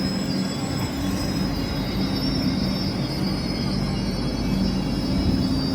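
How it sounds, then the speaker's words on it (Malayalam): An IRCTC private train runs along the tracks with a continuous, moderately loud rumble of wheels on rail and a high, steady squeal of the wheels throughout, with no talk. "IRCTCൻ്റെ പ്രൈവറ്റ് ട്രെയിനാണ്."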